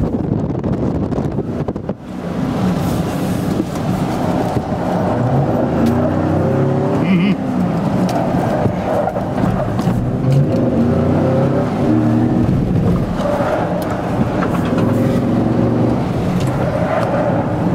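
Chevrolet Silverado 4x4 engine roaring at a Lone Star Park event as it revs toward 5,000 RPM, a loud continuous growl mixed with heavy wind buffeting across the microphone.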